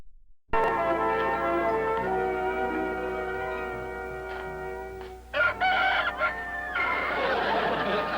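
A rooster crows loudly and close, a long drawn-out call, followed by clucking and some rustling noise toward the end.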